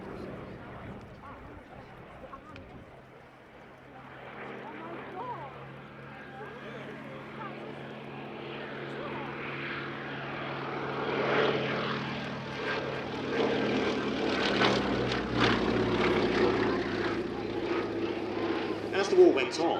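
Westland Lysander propeller aircraft at an airshow, its engine drone growing steadily louder as it approaches, under continuous commentary.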